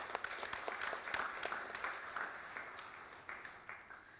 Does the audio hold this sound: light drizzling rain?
no